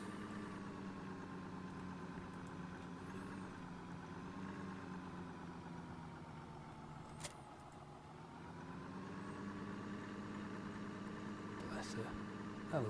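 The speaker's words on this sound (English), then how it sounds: "I love this little tractor, it's a lovely little model." A small tractor engine in Farming Simulator 2013 hums steadily at a low idle throughout, close and even, with slight shifts in pitch and a few faint clicks near the end.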